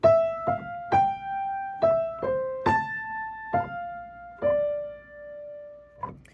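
Single piano notes pick out the new section of the right-hand melody, about eight struck tones in a steady, unhurried line with sustained decays, closing on a longer held note and a faint final touch.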